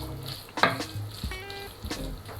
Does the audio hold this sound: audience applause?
no